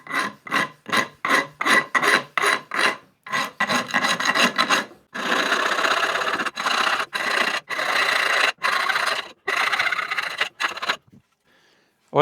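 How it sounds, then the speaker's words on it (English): Stainless steel guitar frets being filed with a fret end file on a Frankenstrat build: a rapid run of short rasping strokes, then longer continuous filing passes, close and loud, ending in near silence. "All right, we've just literally filed them flat."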